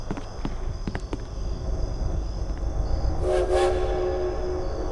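A train arriving in the Death Park horror game, rumbling and clattering with a few sharp knocks early on, then a brief horn blast rising over the steady rail noise, fairly loud and alone.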